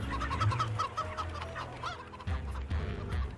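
A cartoon chicken clucks in quick, repeated bursts in an animation, fairly close, with a faint farmyard background.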